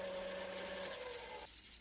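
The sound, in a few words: hand sanding wood bowl with sandpaper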